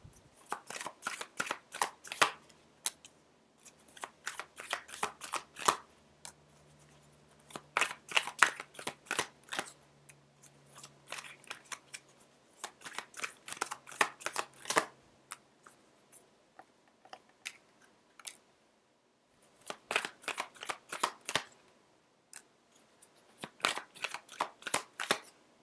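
Tarot cards handled and shuffled repeatedly in close, crisp bursts of riffling and snapping, separated by short quiet pauses, with no talk.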